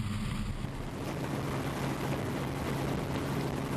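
P1 SuperStock powerboat racing side by side with another boat during a 2011 San Diego race, heard from on board as a steady roar of engine, rushing water and wind noise with no break.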